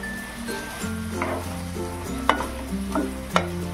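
Chicken seasoned with black pepper frying in a pan as it is stirred, a constant sizzle overlaid with scraping stirs and a couple of sharp clinks of the spatula against the pan, close and moderately loud, no talking.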